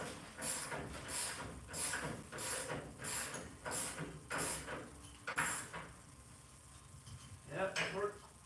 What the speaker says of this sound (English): Torque click goes boom.